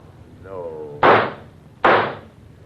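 Two sharp, loud gunshots in a radio drama ring out about a second apart, just after a short vocal cry.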